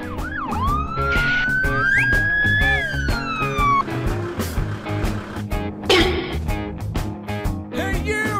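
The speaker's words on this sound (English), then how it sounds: "Ambulance." An ambulance siren wails loud and near with rising and sliding tones, mixed with other emergency-vehicle sounds and busy layered noise throughout.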